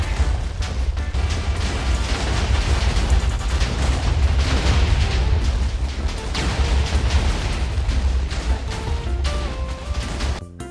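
Explosions in a Minecraft game come as a dense, continuous barrage of loud overlapping booms and crashes that persist at high volume throughout.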